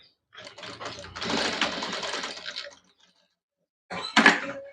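A sewing machine stitches a pleat, with a steady whirring run of rapid needle strokes lasting about two seconds, then a pause and a shorter final burst, close by and clear.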